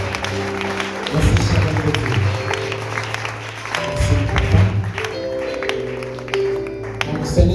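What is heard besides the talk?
congregation applauding and cheering in church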